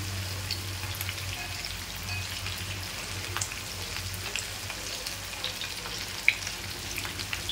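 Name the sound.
fish frying in hot oil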